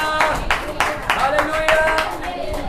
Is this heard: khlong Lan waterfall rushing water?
no